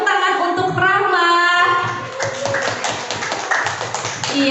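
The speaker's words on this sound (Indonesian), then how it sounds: "Kita berikan tepuk tangan untuk Rahma" A classroom of students claps for a classmate, scattered uneven hand claps close by that begin as a voice fades out and carry on to the end.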